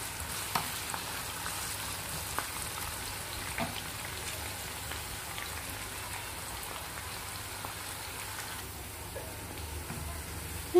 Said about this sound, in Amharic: ሽንኩርታችንን ጨምረን በደንብ መጥበስ ነው ብራውን እስከሚሆንልን ድረስ እንጠብሳለን።